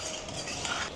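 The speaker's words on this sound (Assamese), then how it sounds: "মছলাটো ভালকৈ মাংসটোৰ লগত যেতিয়া মিক্স হৈ যাব" Spices are stirred into meat in a cooking pan, a brief, steady, close scraping and sizzling texture with no voices.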